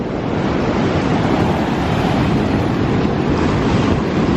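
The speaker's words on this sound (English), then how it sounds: "The sand is, the ocean is washing it out." Ocean waves wash in over a sandy beach beside a palm tree at night, a steady loud roar of surf with heavy wind buffeting the microphone throughout.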